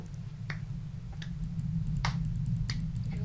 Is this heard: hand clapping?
yes